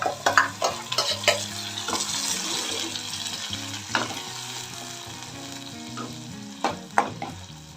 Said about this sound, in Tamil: ஆயில் விட்டு கடுகு, உளுத்தம் பருப்பு, கருவேப்பிலை போட்டு தாளிச்சிடலாம்